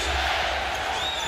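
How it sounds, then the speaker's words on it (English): Basketball arena crowd roaring steadily during an NBA game featuring Kobe Bryant and the Lakers, a dense, loud wash of massed voices holding constant throughout. "Crowd on its feet chanting defense."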